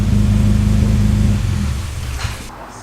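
A rebuilt Mini Cooper engine idles with a steady low throb, then cuts out partway through, leaving a fading rumble and faint ambient noise near the end.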